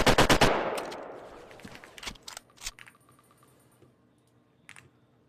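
A rapid, loud burst of video game gunfire opens with several close shots that ring out and decay, followed by scattered, fainter shots and clicks.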